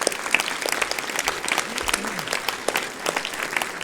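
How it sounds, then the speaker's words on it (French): A crowd applauds at an outdoor commemoration ceremony, many hands clapping in a brisk, uneven patter with a few sharper claps close by, and a faint murmur of voices underneath. "Et j'aimerais qu'on puisse les applaudir"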